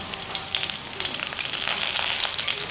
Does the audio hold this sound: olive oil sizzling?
yes